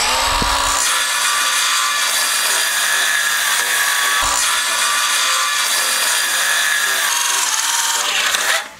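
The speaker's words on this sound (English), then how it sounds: "I'm gonna place my circular saw right here, and I'm simply gonna slide it on the top of my 2x4 guide that we just made" A circular saw slides along a 2x4 guide, cutting the top of a wooden fence post at an angle: a loud, steady whine lasting nearly nine seconds, briefly dipping around the midpoint and stopping abruptly at the end.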